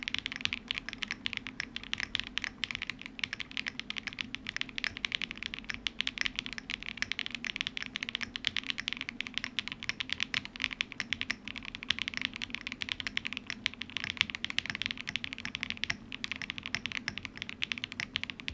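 Continuous fast typing on a Zoom65 V3 mechanical keyboard, with its mounting style switched between passages; dense, even clacking keystrokes run steadily throughout, close and clear with no voices.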